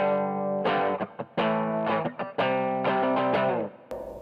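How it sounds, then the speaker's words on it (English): An electric guitar plays through an Ammoon PockAmp on its distortion setting, giving a series of sustained, buzzy overdriven notes and chords, close and fairly loud, that end with a short scrape. "If we move on to the distortion setting,"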